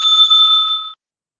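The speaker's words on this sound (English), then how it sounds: "The timekeeper will ring the bell once" A timekeeper's bell at an interbatch debate rings once, a single bright metallic ding with a sustained ringing tone that decays over about a second, loud and alone with no talk.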